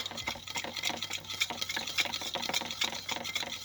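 A homemade slime mixture with hot water is beaten briskly in a bowl, a rapid, regular swishing and clicking whisk rhythm, close and moderately quiet, with no voices.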